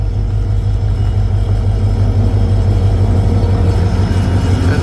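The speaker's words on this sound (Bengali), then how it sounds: "এই জায়গাটা আস্তে আস্তে যায় ট্রেন ক্রস করে" A steady, heavy low rumble rolls on without a break as a train creeps slowly past close by on the Badarpur–Lumding line, with no voices.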